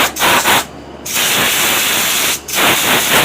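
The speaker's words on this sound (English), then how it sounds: "So I got my itty bitty air nozzle here, so I'm just gonna, you know," A small compressed-air nozzle blows while cleaning a Progator utility vehicle, giving several sharp, close hissing bursts: two short puffs, a brief pause, one long blast, another pause, then a final burst.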